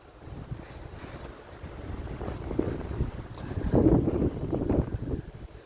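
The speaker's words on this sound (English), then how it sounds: "Oh, I feel wind." Strong gusty wind ahead of a thunderstorm roars and buffets the microphone outdoors, a low rumbling rush that swells louder toward the end, with no speech.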